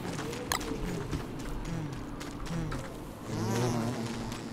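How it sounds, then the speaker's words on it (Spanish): Bees in the game Don't Starve give off a steady, low insect buzz with wavering pitch, sitting close and faint, with a few soft clicks and game effects mixed in. "Se me hace raro que las abejas respiren así."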